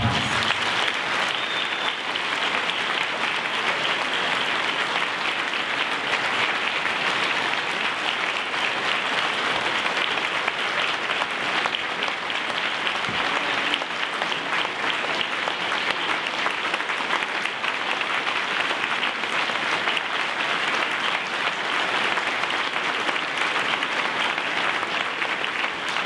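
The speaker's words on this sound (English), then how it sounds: "Please give her a round of applause." Sustained applause from an audience at an evening leadership conference honoring Mrs. Talat Hamdani, a steady wash of clapping that holds at an even loudness for the full stretch.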